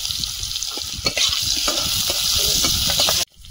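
Potatoes frying in hot oil in a pan with five-spice seeds, salt and turmeric give a loud, steady close sizzle with crackling pops, cut off abruptly near the end.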